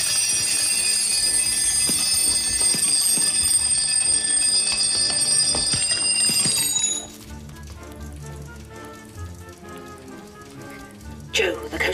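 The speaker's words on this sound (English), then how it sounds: "you must have switched off all of the alarm clocks at the end of 90 seconds" Alarm clocks ring together in a loud, continuous electronic chime for about seven seconds, then stop abruptly, leaving softer clattering and patter.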